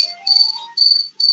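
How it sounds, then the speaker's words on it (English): A cricket indoors chirps in a shrill, steady high-pitched trill. It repeats in close, loud bursts separated by short gaps. "cricket is still going."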